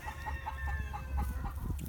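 A Black Copper Marans rooster crows once, close and clear, the drawn-out call carried over a low rumbling background of farmyard noise.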